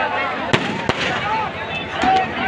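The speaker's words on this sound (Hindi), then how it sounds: "लगातार आतिशबाजी शुरू है" Fireworks crackle and pop over a crowded open ground at a Dussehra Ravan Dahan festival, with a few sharp bursts standing out above a continuous loud noisy roar of the crowd.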